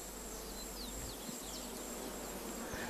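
Steady buzzing of oil-collecting bees visiting oil-producing flowers, continuous and close, with faint high chirps in the background.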